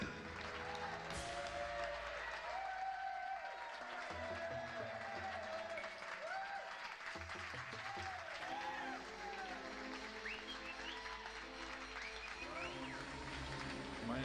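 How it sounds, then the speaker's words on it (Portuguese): An audience at a comedy show applauds steadily, with a crowd murmuring and clapping underneath music-like tones throughout. "Por favor, vamos aplaudir"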